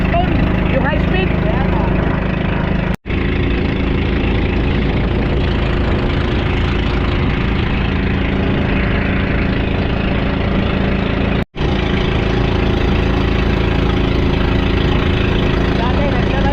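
A Kingston high-speed engine on a fishing boat runs steadily with a loud, low, throbbing drone, broken by two very brief dropouts.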